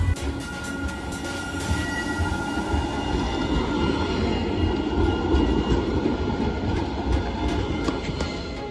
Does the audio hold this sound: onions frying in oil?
no